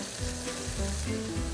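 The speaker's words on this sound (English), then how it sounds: "In the same pan, we're going to caramelize the onions." Onions caramelizing in a pan over lowered heat give a steady close sizzle and frying crackle, with low clunks of stirring or pan contact coming through a few times.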